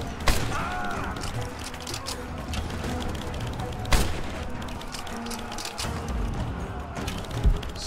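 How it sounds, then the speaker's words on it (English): Rise of the Tomb Raider game audio: distant explosions and scattered gunfire crackle through a dense, continuous rumble of battle noise, with a few louder booms standing out. "Those explosions are kind of throwing me off."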